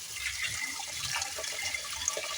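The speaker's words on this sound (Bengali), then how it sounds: "সেই জন্য কল খুলে দিচ্ছি কল খুলে এই জলটাকে ফেলে একদম ভুড়িতে ছেঁকে নেবো" A kitchen tap runs water while boiled soybeans are drained into a strainer, a steady close rushing and splashing stream without speech.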